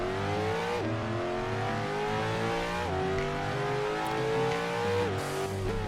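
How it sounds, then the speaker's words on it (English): V8 supercar engine in the Roblox driving game Wayfort, revving steadily upward through several gear shifts with a rising exhaust drone, loud and continuous. "I have to say the exhaust sounds pretty good, especially for this being a V8."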